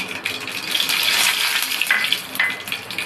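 Curry leaves crackle and sizzle in hot oil as a tempering for medu vada chutney, a dense, bright spitting hiss with sharp pops that swells midway and then eases slightly, with no voices.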